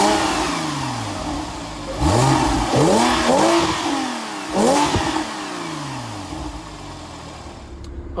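A 2011 Porsche 911 Speedster's 3.8-liter flat-six with 408 horsepower fires up and is blipped through several loud rising revs that sweep up and fall back, settling into a steady idle, heard close with no talking.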